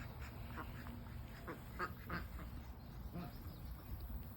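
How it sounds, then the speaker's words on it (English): Ducks quack in short, scattered calls at a moderate distance, several bursts over a low steady background, with a person talking softly nearby. "The ducks are like, stay away from us."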